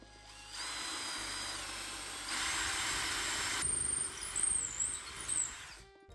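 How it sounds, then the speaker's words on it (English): A power drill bores a hole through a hatchet handle: a steady high whirring motor hum runs for several seconds with slight shifts in pitch under load, close up, then winds down, with no speech. "let's go ahead and drill this hole."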